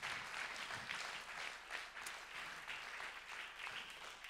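An evening audience at a recycling recovery-plan event applauds municipal waste-sorting agents, steady dense clapping sustained throughout at moderate distance with no voices over it.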